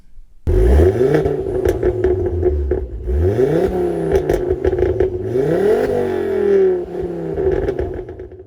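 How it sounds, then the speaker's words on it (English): A 2010 Ford Focus RS five-cylinder engine with a full Scorpion exhaust starts up and revs repeatedly, each blip rising and falling in pitch with a loud, raspy warble close by and no talking. "Stock, you'd get a lovely 5-cylinder warble, but upgrade it to this full Scorpion kit and the car comes alive."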